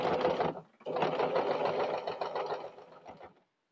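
Sewing machine stitching a box-pleated short skirt, running loud and close in a steady whirring rattle with a brief pause near the start, then stopping abruptly.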